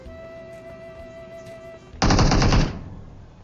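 A short burst of rapid automatic gunfire in a shooter video game fires for under a second after a quiet stretch, loud and close, then decays into a fading echo.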